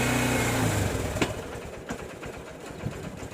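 Scooter engine revving up by itself as the accelerator rises, a steady high-pitched motor drone with a throttle fault, holding fairly constant with a few sharp clicks and knocks over it.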